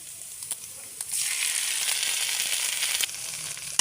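Oil sizzling loudly as bagoong shrimp paste hits the pan, a steady hiss with a few scraping stirs.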